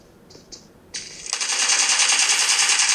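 Gunfire in a mobile shooter game (PUBG or Call of Duty) played on a Samsung Galaxy A55, two brief shots followed by a rapid continuous automatic burst emptying a magazine, loud and close.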